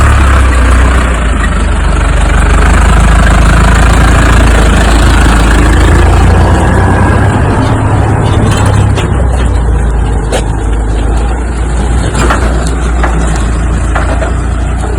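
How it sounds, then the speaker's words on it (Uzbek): A Fendt tractor runs on a dairy farm in Germany, its engine idling with a loud, steady low rumble close by that rises slightly midway, with no talk. "Mana Fendt traktori bilan fermer hozir"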